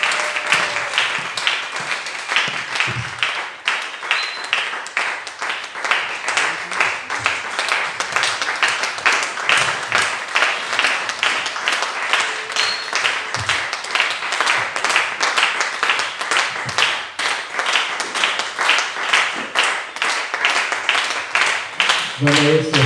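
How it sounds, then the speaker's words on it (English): Church congregation claps rhythmically in unison to welcome a preacher at a Sunday first service, steady regular beats from many hands over a long stretch, with voices speaking and calling out underneath. "help me welcome him with a mighty clap"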